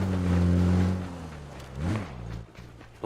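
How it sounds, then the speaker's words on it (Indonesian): A car engine in the PUBG video game drones loudly with a steady, rich hum, then dips and swells briefly as it revs before fading. "Kayak ada suara mobil"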